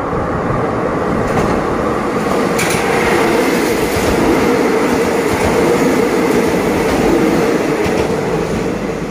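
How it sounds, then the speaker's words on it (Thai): Special express train 43 rushes past a small halt at Chulalongkorn Bridge in Thailand, a loud close continuous roar of rolling wheels and rattling carriages with brief clacks, no talking. "เมื่อสักครู่ที่วิ่งผ่านไปนะครับก็เป็นด่วนพิเศษขบวนที่43"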